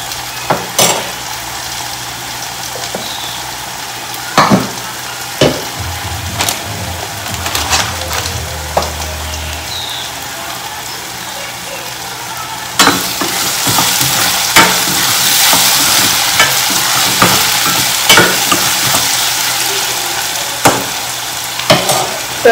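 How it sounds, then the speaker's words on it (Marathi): Potatoes fry in oil with cumin and mustard seeds, a steady sizzle punctuated by utensil clinks and stirring scrapes, the frying growing louder and denser partway through. "हे साईडला तेल करून थोडंसं बटाटे करून त्याच्यामध्ये ना जिरे मोहरी टाकून घ्यायची"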